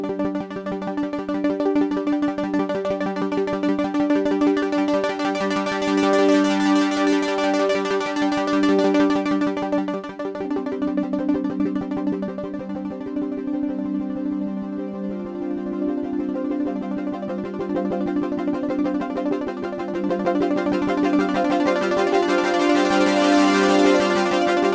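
A Logic Pro synth patch with a random square wave LFO and low filter cutoff: a sustained buzzy tone that steps between brighter and duller timbres, alone and steady throughout.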